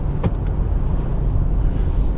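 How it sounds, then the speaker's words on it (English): A 2020 Kia Sportage GT Line driving over an uneven bitumen road, with a steady low rumble of road and tyre noise inside the cabin and a couple of brief higher knocks early on. "this uneven bitumen surface is really not being very kind to the car, but the car just doesn't care"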